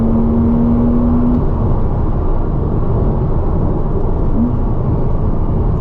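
A Porsche engine drones loudly from inside the cabin under steady road noise, rising in revs before an early upshift and then pulling again, with no voices over it.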